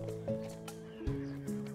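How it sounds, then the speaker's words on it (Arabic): A horse named in a children's TV programme whinnies in short, wavering calls, close and fairly loud, repeated several times over a brief stretch with faint background noise. "هاري الحصان."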